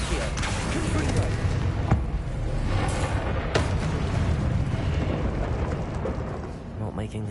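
A Confringo blasting spell in the game Hogwarts Legacy goes off with sharp bursts and booming impacts over a rumbling combat backdrop, with voices talking at points.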